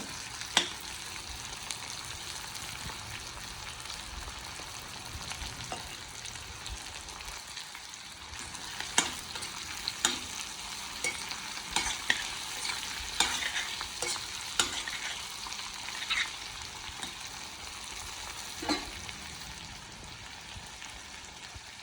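Food fries in hot oil in a pan, a steady soft sizzle punctuated by irregular scraping clicks of stirring, close and alone.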